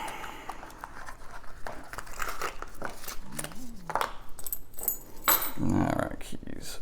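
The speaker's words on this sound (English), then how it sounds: "Alright, keys." A bunch of keys jangles and clinks in short bursts at close range during a lock-picking session, with someone talking quietly over the metallic rattling.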